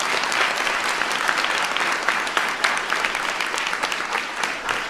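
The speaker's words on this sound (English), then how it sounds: "Give Olivia a big round of applause." An audience at a science fair claps enthusiastically, loud dense applause sustained for the full few seconds with no voices standing out.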